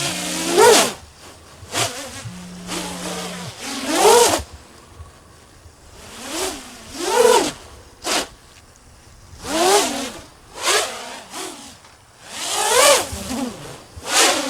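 High-pitched whining buzz of a small FPV racing drone on an RMRC Valorem frame, swelling and fading as it zips past repeatedly, loud bursts separated by quieter moments.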